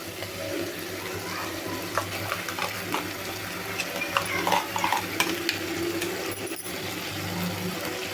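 Ground paste is tipped into a pan of Tamil Nadu-style mutton curry and stirred in, giving a soft bubbling sizzle under scraping spoon strokes and scattered clinks, moderately quiet and continuous without speech.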